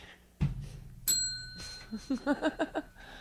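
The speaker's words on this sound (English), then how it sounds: "And the bell gets rung." A single bright bell ring sounds clearly on a busker radio broadcast, followed by a short run of soft, bouncy knocks, with the room otherwise quiet.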